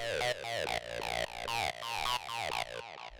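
A 303-style acid synth line with its low end and low mids cut by EQ squelches through rapid, resonant sweeping notes in a busy repeating pattern, loud and upfront with no talk.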